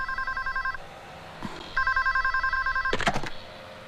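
An old-style telephone bell rings in repeated bursts with short pauses between them, loud and close indoors, followed by a brief clatter like the receiver being picked up.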